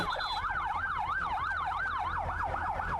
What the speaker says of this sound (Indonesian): Suara sirine ambulans terus bergema di tengah penyelamatan korban banjir.